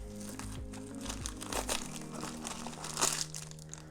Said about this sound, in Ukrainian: Беремо ось таку ось жовту посилочку, відкриваємо.